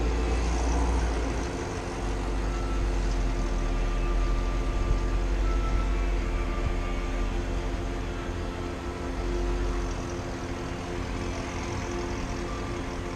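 A Camaro with Corsa Extreme exhaust and long-tube headers rumbles and revs below 4,000 rpm, a dense, steady low roar that swells slightly and holds close and loud throughout, with no talking.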